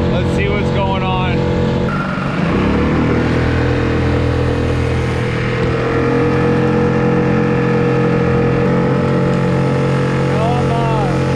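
A small skiff motorboat speeds across San Diego Bay, its outboard engine droning loud and constant with hull slapping and wind rush heard close from on board.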